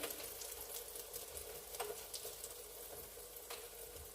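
Cheese and ham naan cooking in butter in a pan, a faint, steady, even sizzle with a few tiny crackles, heard close and alone.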